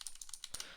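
Rapid computer keyboard typing while programming, a quick run of close, crisp key clicks with a slightly louder burst of strokes near the end.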